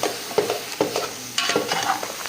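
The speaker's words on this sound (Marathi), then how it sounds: "आता आपण या मसाल्यामध्ये त्याला मिक्स करून घेऊ" Mutton stirred into a sizzling masala in a pan, with repeated close scraping and stirring strokes over a steady fry, no voices.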